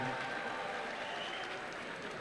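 A crowd applauds steadily at a swearing-in ceremony for foreign-trained medical and dental graduates, a dense, even patter of clapping held at one level throughout the hall.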